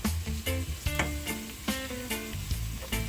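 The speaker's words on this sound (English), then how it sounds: "my onions are almost finished frying" Onions sizzle and fry in hot oil in a pan while being stirred, with a steady close crackle and repeated clinks and scrapes of a utensil against the pan.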